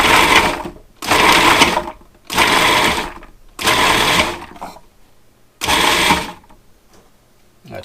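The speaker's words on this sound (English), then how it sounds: "Now in the food processor, we're just going to pulse this for a couple of times, get these down into smaller pieces" A food processor pulses apple chunks in five short bursts of loud whirring and chopping, each about a second long, separated by brief pauses as the blade spins down.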